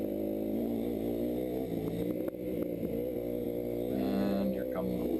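A Yamaha YZ250F motocross bike runs on a dirt track with a steady, fairly close engine drone that rises briefly near the end.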